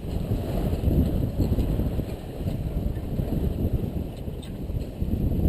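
Steady wind at about 16 to 17 knots rushing over a sailboat off North Eleuthera, a dense low roar with buffeting gusts and faint water wash, continuous and close throughout.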